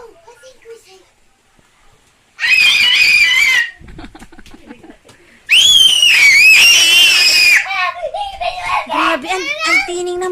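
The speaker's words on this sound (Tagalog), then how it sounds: "Grabe, ang tining ng mga sigaw nyo." Two children shout and scream loudly at play indoors, in two long, high-pitched bursts, with a quieter chatter of voices between and after them.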